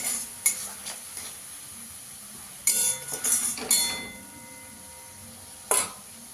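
Spice paste of turmeric and Kashmiri chilli powder being fried in oil for a katla fish curry with kohlrabi, a faint steady sizzle broken by a few sharp clinks and scrapes of a spoon against the pan, no talking.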